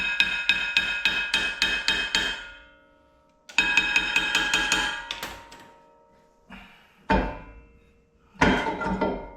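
Rapid metallic hammer strikes ring out in quick bursts while replacing Mazda Miata rear bushings and bearings, pausing between sets, followed by a few slower, heavier single blows.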